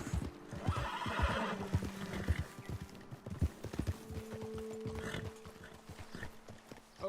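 Horses in Red Dead Redemption 2 whinny loudly and close by while their hooves clop on the ground in an irregular, shuffling rhythm, with a short neigh partway through.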